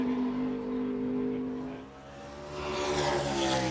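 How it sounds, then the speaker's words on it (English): Race car engine hums steadily at speed, dips briefly, then its revs rise again as the car rolls over curbs, loud and continuous without talk. "Hear the engine roll over the curbs. Revs jump up."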